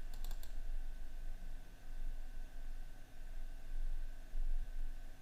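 A computer mouse double-clicks to open a photo in RawTherapee photo-editing software: a quick pair of faint clicks right at the start, followed by steady low background hiss.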